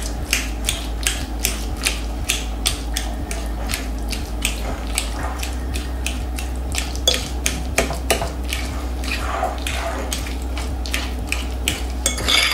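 A fork mixes cheesecake filling made with requesón in a bowl, giving steady rhythmic metallic clicks and taps against the bowl at close range over a low hum, with no talking.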